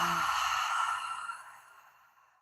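A single long exhalation in guided breathwork, a soft breathy sigh that starts strong and gradually fades to silence over about two seconds.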